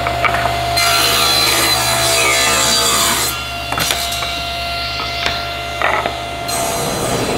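A chop saw whines loudly as it slices through wood cut to length for a box, one continuous close cut with the blade pitch shifting, then the motor spinning down with short knocks.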